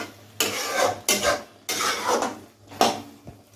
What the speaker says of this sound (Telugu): అలా కూర కలుపుతున్నాము చూడండి.